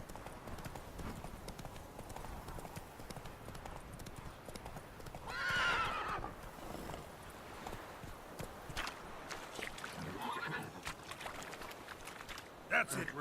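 Roach, a horse in The Witcher 3: Wild Hunt, gallops with steady rhythmic hoofbeats, a loud whinny near the middle and another neigh later, game ambience throughout.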